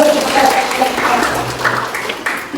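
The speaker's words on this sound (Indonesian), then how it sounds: "Tepuk tangan dulu" A class claps together during a classroom learning game, a brief burst of mixed hand clapping with voices talking and calling out over it.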